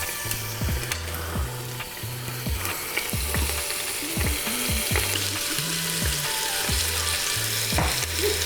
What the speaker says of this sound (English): Once it gets hot, we're going to sear the meat.